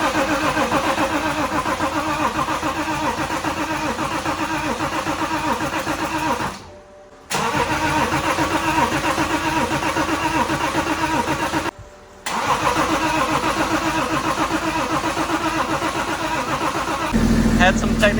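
A BMW X5 diesel engine from a totaled vehicle runs steadily at a loud, close idle with a rough mechanical clatter. It cuts out briefly twice before carrying on, while voices talk over it.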